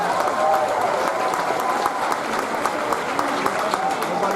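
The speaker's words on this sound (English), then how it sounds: "So let's give a big round of applause for Larry Giles." A crowd at the Busch Gardens Williamsburg announcement of the 2015 Tempesto roller coaster applauds Larry Giles, giving steady, dense clapping that stays loud and even throughout.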